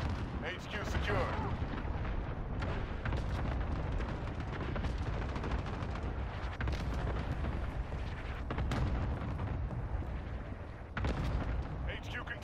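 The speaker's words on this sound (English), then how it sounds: "Enemy cruise missile incoming." Cruise missile strikes in a video game land as repeated heavy blasts and crackling impacts over continuous battle noise, with bursts of gunfire and voices mixed throughout.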